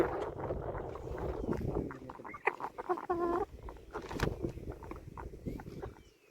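Chickens bought at a poultry sale cluck and squawk close by in short irregular bursts, with one louder drawn-out call midway, amid handling noise and a busy background.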